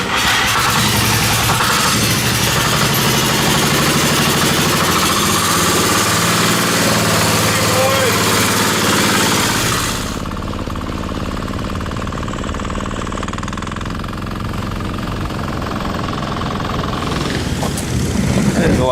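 A turbocharged Temu 10HP diesel go-kart engine runs loud and steady throughout, a harsh, rattling drone that shifts to a slightly lower, rougher tone midway.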